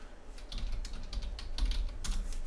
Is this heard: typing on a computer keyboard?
yes